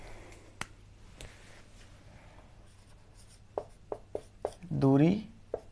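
Marker or chalk strokes on a classroom board during a physics lesson, a run of short taps and scratches near the end, heard under a teacher's steady talk.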